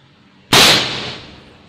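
A single loud, sharp crack from a Hercules Big Game PCP air rifle, close by, with an abrupt onset and a bright hissing tail that fades over about a second.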